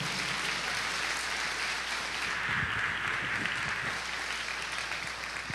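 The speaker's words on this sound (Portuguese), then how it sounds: "Quem quer vitória, aplauda o Senhor Jesus nessa noite." Church congregation applauding during an evening service, a steady dense wash of clapping that holds at an even level throughout without letting up.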